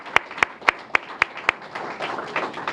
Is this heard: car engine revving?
no